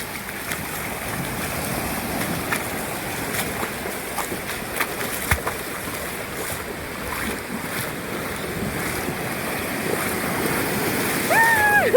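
Boat ride across the sea to a dive spot: a constant, loud rush of engine, hull and wind noise with splashing water, steady throughout, and a brief voice near the end.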